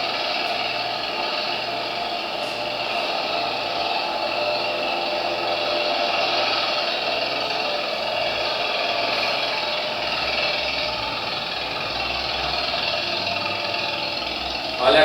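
A motor-driven corn shelling machine with rotating and fixed teeth runs steadily, a constant droning engine hum with harmonic whine, close and continuous with no break.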